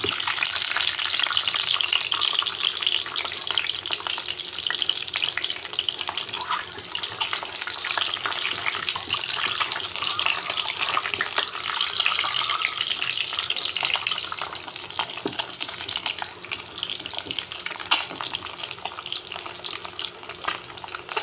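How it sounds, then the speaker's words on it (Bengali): Eggs frying in hot oil in a pan on a stove, a loud continuous hiss and crackle with scattered sharp pops, steady throughout with no talking. "ডিমগুলো ভাজা হয়ে গেল।"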